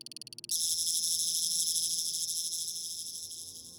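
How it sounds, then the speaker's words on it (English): Synthesized cicada effect built from resonant clicks: a few pulsing clicks open it, then a dense, high, continuous buzzing drone takes over and slowly fades, with no voices. "my cicada sound design around this process, by creating a patch where I can control the rate of synthesized resonant clicks"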